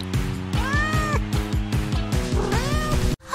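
A domestic cat meows repeatedly in several drawn-out, rising and falling calls, fairly close and clear, with no talk over it; the sound cuts off abruptly at the end.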